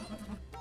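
A single short goat bleat, close and moderately loud, during an outdoor yoga session with goats.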